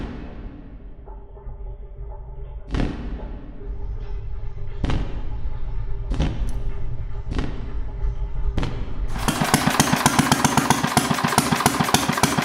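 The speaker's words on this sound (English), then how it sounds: "they would dare to run the engine on gasoline for me" A gasoline engine is cranked with heavy intermittent thumps, then catches and runs with a fast, loud, rough chugging that continues to the end.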